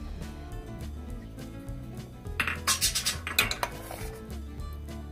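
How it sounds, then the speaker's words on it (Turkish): Fresh apricots and their kernels drop into a metal pot for apricot jam, a quick cluster of sharp clinks and clatters over a couple of seconds against a quiet kitchen background. "içerisine ilave ediyorum kayısılarımı. Kayısı çekirdeklerimi de ilave ediyorum."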